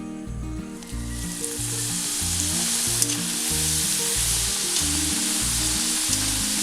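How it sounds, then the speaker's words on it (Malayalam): Homemade French fries deep frying in oil, giving a steady, loud, continuous sizzle with dense bubbling throughout, alongside a rhythmic low-pitched background pulse and no talking. "ഞാനിത് ഒരു പ്രാവശ്യം കൂടെ ഫ്രൈ ചെയ്യുന്നുണ്ട്."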